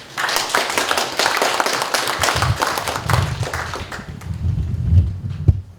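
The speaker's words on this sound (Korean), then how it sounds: "여러분 큰 박수 부탁드리겠습니다" Clapping from an audience at a book launch event in Korea, a burst of many hands that thins out and fades after about four seconds, leaving a few scattered claps and low thumps.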